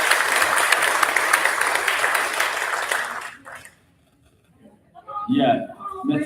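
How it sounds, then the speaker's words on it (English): An audience at a school board meeting gives dense, steady applause for about three seconds; it fades to silence, and then a voice speaks up nearby. "round of applause for you guys"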